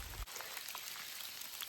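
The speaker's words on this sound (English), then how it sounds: "This is what it looks like walking in a torrential downpour." Torrential rain pours down steadily on a hiker along the Appalachian Trail, a dense continuous hiss of drops hitting the surface, close and unbroken, with no voices.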